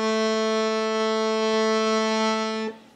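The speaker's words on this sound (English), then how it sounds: "What would happen if we put the middle and the low reeds together? Let's try that. Two reeds now instead of one." Accordion on a tuning table sounds its middle and low reeds together as one steady, loud held note lasting nearly three seconds, then it cuts off abruptly, with faint rhythmic clicks underneath.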